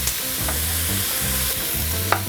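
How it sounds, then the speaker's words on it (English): Cajun cabbage and andouille sausage sizzle steadily in a pan while a utensil scrapes and stirs through it in repeated strokes, close and continuous with no talking. "you got to keep constantly stirring it in most pans, unless you have a non-stick pan"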